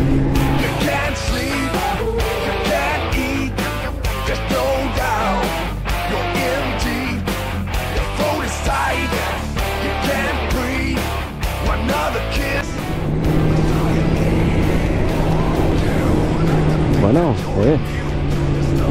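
Motorcycle riding on the road, with a loud, steady engine and wind rumble throughout and the engine note shifting near the end while a rider speaks over it.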